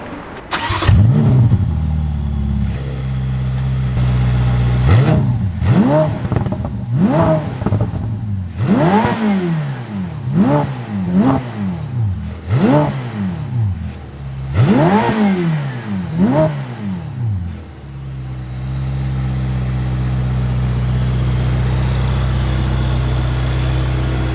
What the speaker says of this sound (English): So I think we need a little revving.